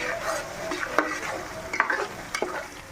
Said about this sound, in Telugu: ఇది కూడా పచ్చి వాసన పోయిన దాకా వేయించుకోవాలి.